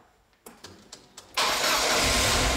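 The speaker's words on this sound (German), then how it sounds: "Jetzt überbrücken wir, schauen wir, ob er anspringt" A Ford Sierra Cosworth engine, left standing for about five months, starts after jump-starting the battery: a few sharp cranking pulses are followed by the engine catching and settling into a loud, steady idle, close by and with no talk.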